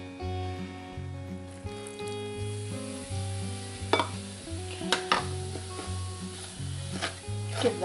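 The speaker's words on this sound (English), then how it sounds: "Give that a little bit of a mix" A homemade beer mustard mixture is stirred by hand, giving soft scraping and occasional light clinks of utensil on bowl over a steady low hum, with no talking.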